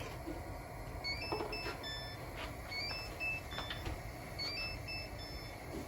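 An electronic kitchen timer gives short, high beeps in small irregular clusters, fairly faint over a constant background hiss and noise while cassava cooks in coconut milk.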